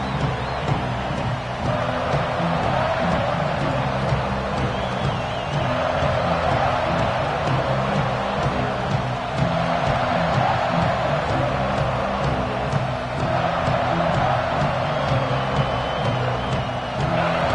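Alabama football stadium crowd cheering after the kickoff, a dense, steady roar of many voices filling the space at a constant level throughout.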